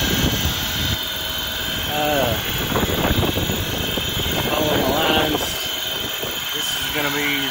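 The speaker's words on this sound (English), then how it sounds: "we got a pump running" A pump inside an HVAC unit with an iced-up evaporator runs as a loud, steady mechanical drone, while someone talks over it now and then.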